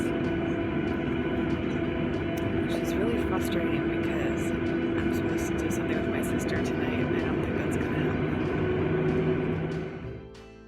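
An airplane sits on the runway, heard from inside the cabin as a loud, steady engine hum with sustained tones that holds evenly before fading out abruptly at the end.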